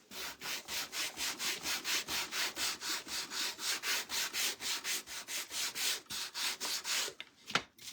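Sandpaper scrubbing back and forth over dry-brushed wood in a quick, even rhythm of about three strokes per second, close and fairly quiet, ending with a light knock.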